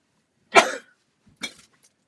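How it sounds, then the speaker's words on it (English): A person lets out a sharp sneeze, one strong close burst followed a moment later by a smaller second expulsion, in an otherwise silent room. "a sneeze coming on."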